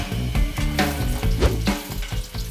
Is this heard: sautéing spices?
yes